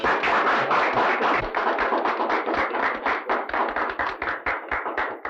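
Audience applause at an engagement celebration where a singer is being introduced: dense, sustained clapping from many hands, loud and close, steady throughout with no voices on top.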